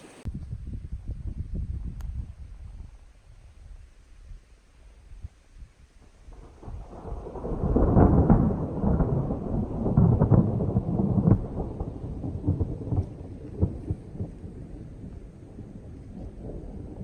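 Thunder rolls through an outdoor thunderstorm with a rain shower, starting as a quiet low rumble and swelling into a long, loud, deep roll that slowly fades, with no voices.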